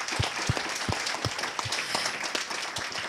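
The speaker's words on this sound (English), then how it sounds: "round of applause and then questions." An audience at a panel discussion applauds, dense overlapping hand claps with a few close, sharp individual claps standing out over the steady patter throughout.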